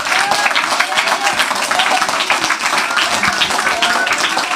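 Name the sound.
congregation applauding loudly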